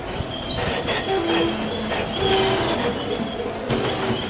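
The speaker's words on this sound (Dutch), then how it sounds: "nu gaan we dus met de metro naar het station de Catalunya" A Barcelona metro train rides toward Catalunya station, giving a loud close rumble inside the car with tonal wheel squeals and rhythmic track clatter. No one speaks.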